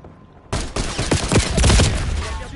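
Gunfire in the Black Ops 6 video game: a sudden burst of rapid shots and explosive cracks begins abruptly, then continues as a dense, loud, sustained fusillade with overlapping impacts.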